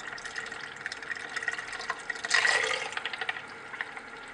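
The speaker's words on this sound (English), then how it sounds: "And now in one go, add urea and gelatin solution." Urea and gelatin solution is poured in one go into a stirred bleach mixture: a liquid splash and pour that swells briefly in the middle over quiet, steady background stirring.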